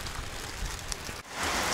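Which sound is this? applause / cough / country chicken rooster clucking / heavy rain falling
heavy rain falling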